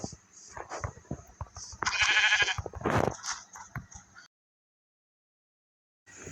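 Sheep bleat in the video game Minecraft, several short close calls in a quick burst, with faint game sounds before and a silent gap after.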